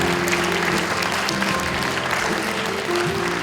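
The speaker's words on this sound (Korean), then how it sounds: "큰 박수로 맞아주시기 바랍니다." An audience at a city forum claps steadily, a dense patter of applause filling the room for a few seconds.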